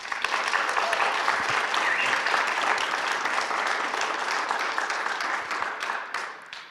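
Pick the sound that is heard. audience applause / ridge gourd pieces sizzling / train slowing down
audience applause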